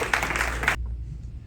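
Brief burst of audience clapping at an evening literary forum session, loud and close, cutting off abruptly after under a second.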